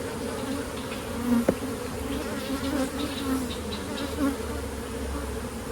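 Honey bees buzzing around an open hive during an inspection and requeening, a steady close hum with individual bees droning past and flying near, no talking.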